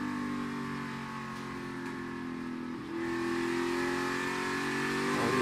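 NASCAR Cup Series race car engine on the track at New Hampshire, a loud sustained roar that eases slightly through the middle of a corner and then climbs in pitch as the car accelerates.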